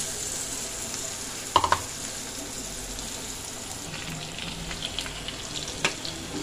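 Washed flattened rice being stir-fried with fried onions in a pan for kanda poha, a low steady sizzle broken by a few sharp clinks and scrapes of a spatula against the pan.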